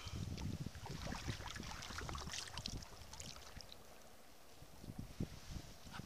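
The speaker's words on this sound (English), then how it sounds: "Here comes another speedboat." A speedboat passing sea kayakers off the Mull of Kintyre peninsula, heard as a broad rushing roar mixed with wind buffeting and lapping water, loudest early and easing slightly before a few splashes near the end.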